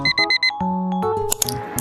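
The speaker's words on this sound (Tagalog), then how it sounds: "Set alarm para laging sumunod." An alarm clock rings in short repeated bursts, a set of quick beeps in an even rhythm, then gives way to tonal chimes and music.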